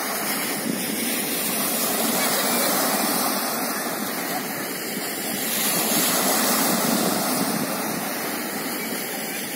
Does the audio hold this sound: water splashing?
yes